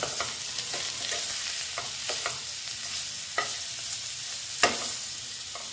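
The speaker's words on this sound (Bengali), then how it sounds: "এখন একটু ভেজে নেব ফুলকপিটা" Boiled cauliflower fries with a constant hiss in the pan, punctuated by a handful of scraping stirs and a couple of louder clanks.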